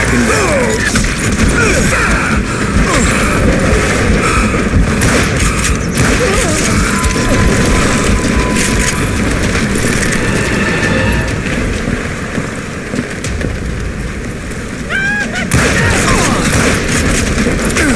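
Sustained gunfire in the Western shooter Call of Juarez Gunslinger, a dense, loud barrage of overlapping shots and impacts running throughout with brief lulls, backed by game ambience.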